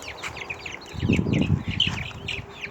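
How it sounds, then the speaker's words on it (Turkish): Village chickens in a coop cluck and chirp in short bursts nearby, with a brief flutter of wings in the middle. "Dört tane köy tavuğumuz."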